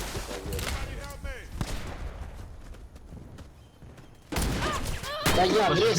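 Bursts of rapid gunfire in the online shooter Warface crackle in short volleys, with a louder burst at the end, under a busy game soundscape.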